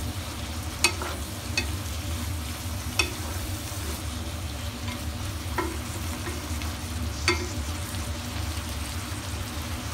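Beef and carrots frying in a pan for hayashi rice, with a steady low sizzle and a few sharp clicks of a utensil stirring against the pan, alone without talk.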